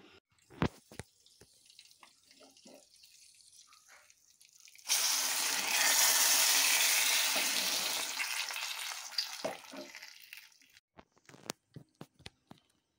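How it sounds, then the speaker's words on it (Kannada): Loud, bright sizzling bursts up as asafoetida and mustard seeds hit hot oil for sambar tempering, hissing for several seconds before fading, with clinks and taps before and after. "ಇಷ್ಟು ತಗೊಂಡು ಒಗ್ಗರಣೆ ಹಾಕ್ಕೊಳ್ಳೋಣ"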